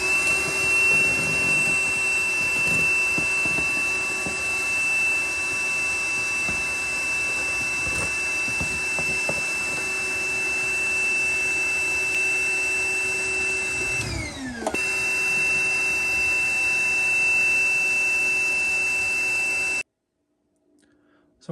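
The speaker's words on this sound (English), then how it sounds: "you also want to use the vacuum to pull the grass vertically so it's" A vacuum held over freshly applied static grass on an HO scale model railway layout, a steady close whine and motor drone running for about twenty seconds with a brief dip in pitch midway and faint clicks, then stopping.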